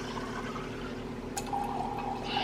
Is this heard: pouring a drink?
yes